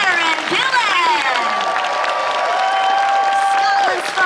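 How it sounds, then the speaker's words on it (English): A Comic Con Scotland crowd in Aberdeen applauds and cheers for actress Karen Gillan after a Q&A, steady loud clapping with whoops and tonal shouting voices layered over it. "Ladies and gentlemen, please keep your applause going for the amazing Karen Gillan!"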